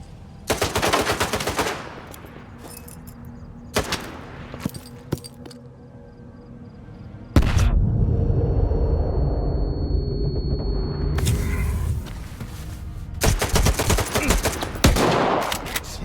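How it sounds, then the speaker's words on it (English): Bursts of automatic gunfire in a Stalker 2 video game firefight, rapid loud volleys early on, a pause, then a sustained rumbling stretch and further close crackling shots near the end. "I'm the one doing the shooting here."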